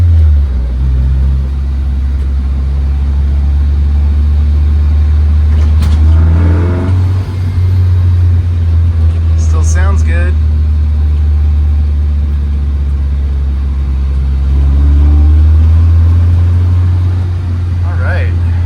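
A 1960s MG 1100 car drives along with its engine droning low and steady, rising at times as it accelerates, while a faint wheel rub may sit underneath and someone speaks briefly over it.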